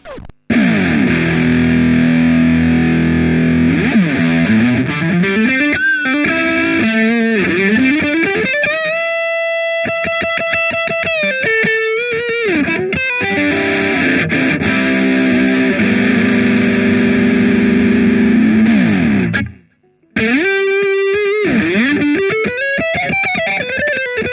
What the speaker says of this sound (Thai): เดี๋ยวจะข้ามมาดูมันที่เสียงแตกกันนะเดี๋ยวผมจะลองเล่นกับเสียงแตกดู